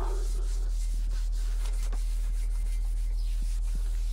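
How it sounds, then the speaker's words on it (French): Hand sanding on a car body that has been degreased with acetone, a soft rhythmic rubbing repeated in short strokes over a constant low hum. "Donc ponçage, après un bon dégraissage à l'acétone."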